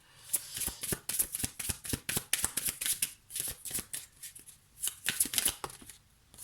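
Tarot cards being drawn, shuffled and handled in a card reading, a quick run of crisp papery slaps and riffles close by, arriving in uneven bursts with short pauses.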